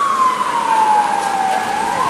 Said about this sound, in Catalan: I no paren de fer sonar les sirenes